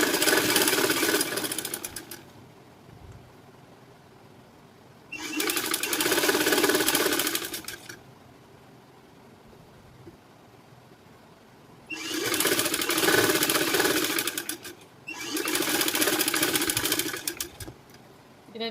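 A sewing machine stitches along marked lines on a high-neck blouse in four separate runs of rapid, even mechanical chatter, close and loud, with quiet pauses between the bursts.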